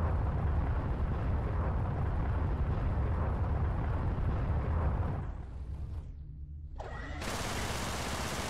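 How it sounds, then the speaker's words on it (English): Missiles explode in the space combat game Everspace, a dense, roaring blast of noise that fills the first five seconds, then drops away and returns as a steady rushing wash, with no speech. "Set a target lock before shooting so the missiles can home in."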